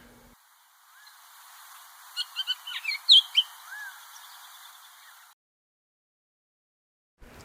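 A few clear oriole calls ring out against a quiet outdoor background at Bosque del Apache, a short burst of sharp whistled notes clustered together, then silence.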